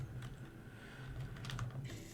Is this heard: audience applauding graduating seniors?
no